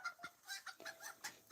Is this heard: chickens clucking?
yes